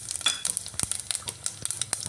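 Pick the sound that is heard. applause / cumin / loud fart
cumin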